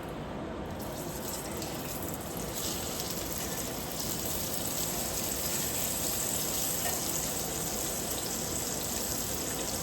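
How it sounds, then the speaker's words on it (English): Steak searing in hot butter and oil in a pan, a loud continuous broadband sizzle that holds steady without breaks. "Dump that butter in that oil, nice and hot. Get my steak in there."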